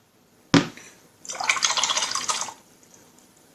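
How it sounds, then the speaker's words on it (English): A paintbrush is swished and rinsed in a pot of water for miniature painting: a sharp tap against the rim, then about a second of close splashing and sloshing, fading to quiet. "I'm going to rinse my brush"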